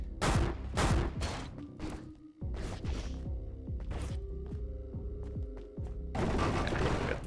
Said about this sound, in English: Big old explosion there.